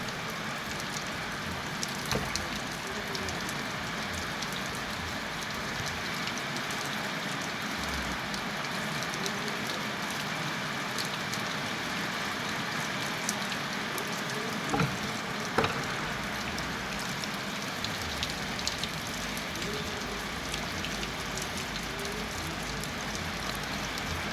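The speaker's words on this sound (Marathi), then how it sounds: "दमदार पाऊस चालू आहे आपलं" Heavy rain pours in Khavaspur as a constant, loud patter and hiss, with occasional sharper drops and drips standing out over the steady downpour.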